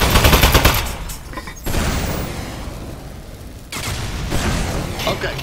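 Sustained gunfire from a weapon in the video game Aperture Desk Job, loud dense bursts with a quieter stretch in the middle before the rapid shooting picks up again.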